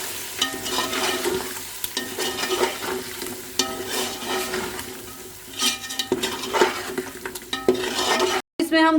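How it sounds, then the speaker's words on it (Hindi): A spoon scrapes and stirs red chili, turmeric and salt through sizzling chicken and potatoes in a pot, with uneven clinks against the metal over a steady fry. "लाल मिर्च, हल्दी, नमक और इनको मिक्स कर लेंगे।"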